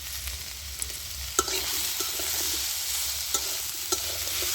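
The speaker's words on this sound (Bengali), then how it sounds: "এগুলো ভালো করে দিয়ে আমি কষিয়ে নিচ্ছি একটু।" Turmeric and chili powder sautéing with vegetables in a pan for a vegetarian cabbage curry give a steady close sizzle, broken by a few sharp spatula taps and scrapes, with no talk.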